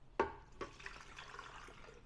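Liquid is poured into the pitcher of a Ninja Foodi Power Blender, starting with a sharp splash and settling into a soft, close trickle and gurgle lasting about two seconds, with no voices.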